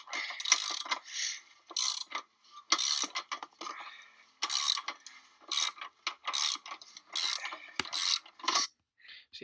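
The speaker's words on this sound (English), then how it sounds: "That's usage of me with the ratchet" Hand ratchet wrench unscrewing a fastener on a Pontiac G6 car door panel, rapid clicking bursts repeating in a steady stop-start rhythm, close and fairly quiet with no talk.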